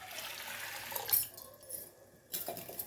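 Soaked urad dal is washed in water: brief sloshing and splashing, a pause with a thin trickle, then another short burst of swishing water, all close and fairly quiet.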